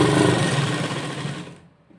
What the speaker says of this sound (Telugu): స్ట్రైట్గా స్టిచ్ చేసుకోవాలి.